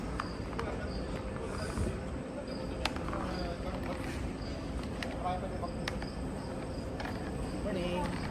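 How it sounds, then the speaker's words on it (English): Recorded cricket chirps pumped through speakers in the open-air Central Park area of a Royal Caribbean Oasis-class cruise ship, a faint steady insect drone under general ambient noise. "they're still pumping the sounds of crickets through"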